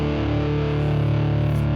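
An electric guitar tuned to drop D plays through a Friedman amp with heavy, nasty distortion, a thick sustained chord droning loud and steady with no pauses.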